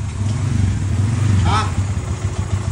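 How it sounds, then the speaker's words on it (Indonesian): Motorcycle arriving close by, a throbbing mid-pitched engine idling and revving continuously, with a person briefly speaking over it. "Geus nepi tah ieu motorna tah"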